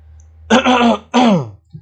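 A man clears his throat in two harsh, raspy bursts while working on a furniture design for a living room table, loud and close, with a faint short grunt trailing after.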